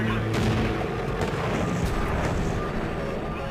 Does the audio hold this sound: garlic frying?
no